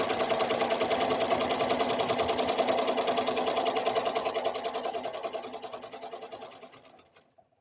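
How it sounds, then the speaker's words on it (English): A sewing machine stitches a white flag quilt square with white thread, a fast close rhythmic clatter of needle strokes that slows and stops near the end, no talk. "So just sewing along here real quickly, getting this done."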